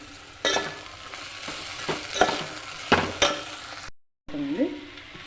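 Chili powder and salt being stirred into okra cooking in a pan, a spoon scraping and knocking against the metal in several strokes over a steady sizzle, broken by a short silent cut near the end.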